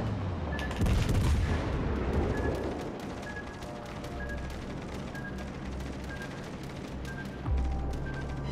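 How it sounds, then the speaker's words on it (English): Naval anti-aircraft guns in World of Warships: Legends fire a steady rapid stream of shots, with heavier booming bursts near the start and at the end, amid dense battle noise from a Tier 7 Anchorage cruiser. "my anti-aircraft is working really well too"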